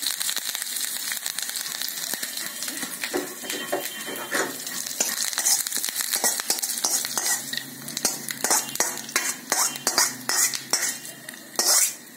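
A spoon clinks and scrapes against a bowl while curd is mixed with curry leaves, giving repeated close metallic taps and stirring strokes with faint crackle underneath and no speech.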